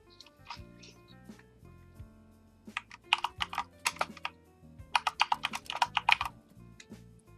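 Someone types a name on a computer keyboard during a live Let's Play of the game Passpartout, quick bursts of clicky keystrokes, sparse at first and then rapid, over a soft game music backdrop.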